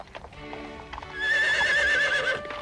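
A horse neighs loudly in a long rising whinny at a big horse race, following lighter hoof clatter, with the call dominating the second half.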